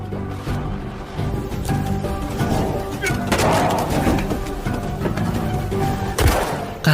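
Rapid gunfire and heavy booms from a film crackle continuously, loud and dense, with a sharp blast near the end; no clear talk.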